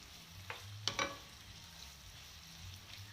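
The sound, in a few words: onions sautéing in a pan until golden brown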